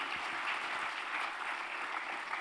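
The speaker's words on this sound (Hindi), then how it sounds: "एक बार जोरदार तालियां इन दोनों विभूतियों के लिए" An audience at an awards ceremony of a social service organisation applauds in a steady, distant wash of clapping, fairly faint and even throughout.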